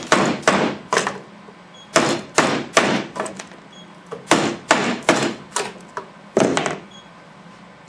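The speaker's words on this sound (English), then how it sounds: "You'll notice when I pry the blade out, I'm trying to put lateral force on the blade itself." Benchmade 916 folding knife blade pried with lateral force, giving a series of sharp, loud clacks and thuds in irregular bursts of two to four, close up and alone.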